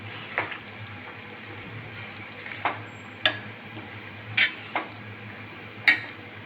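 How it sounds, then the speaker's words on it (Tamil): Sautéed vegetables with chili, turmeric and coriander powder are stirred in a pan, soft sizzling under a series of sharp, intermittent spoon scrapes and taps against the vessel. "நம்ம எல்லா மிளகாத்தூள், மஞ்சள்தூள், மல்லித்தூள் சேர்த்துருக்கோம். நல்லா கிண்டி விட்டுக்கலாம்."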